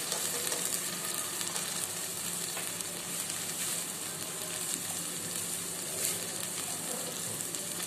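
Spices sizzle and fry in hot oil in a pan for bhagary baingan, a steady broadband crackle lasting throughout with faint stirring scrapes, fairly quiet and alone without talk.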